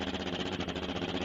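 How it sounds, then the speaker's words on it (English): A Ford Model A 4-cylinder engine in a 1929 Ford Roadster land-speed racer runs at El Mirage dry lake with a dense, steady, loud mechanical drone and a fast pulsing throb. "That is a Ford Model A 4-cylinder that he's running on his 1929 Ford Roadster Rod Riders Club entry."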